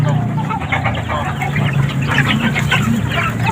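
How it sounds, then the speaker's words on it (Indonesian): Chickens raised on household waste and BSF maggots cluck and chatter close by, a busy overlapping flock sound with steady background noise. "Ayam saya hanya dibesarkan oleh sampah dan Maggot BSF."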